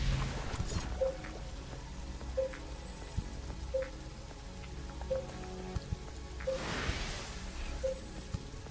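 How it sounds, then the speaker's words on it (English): Rain in The Riftbreaker video game, a soft patter over a swampy landscape, with a short, regular tone repeating about every second and a half and a louder whoosh near the end. "It's raining."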